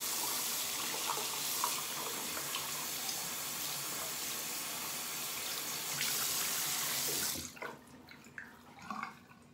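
Steady, loud stream of water runs from a bathroom tap into a sink while a face is wetted with a washcloth, cutting off near the end to leave scattered drips and splashes.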